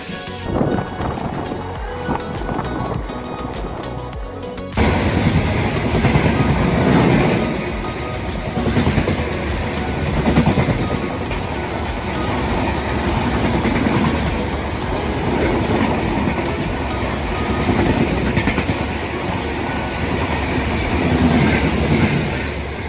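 A train rumbles past close by at Alampur station, a loud continuous roar with rhythmic clickety-clack of wheels that swells suddenly and persists throughout.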